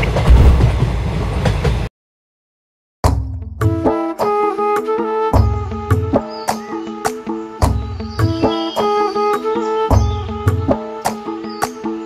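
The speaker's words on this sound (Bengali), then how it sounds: "প্ল্যাটফর্ম থেকে থ্রু ট্রেন যাবে।" A through train passing a railway platform near Bolpur Santiniketan, loud and close, with steady rhythmic clickety-clack of wheels over rail joints repeating across the whole passage after a brief silent gap.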